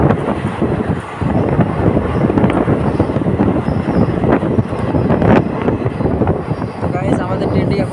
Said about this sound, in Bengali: দেওয়ানহাট থেকে আমাদের ট্রেনটা ছেড়ে দিল